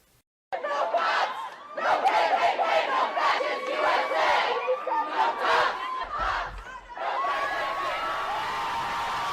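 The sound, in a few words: protesters cheering after toppling a Confederate monument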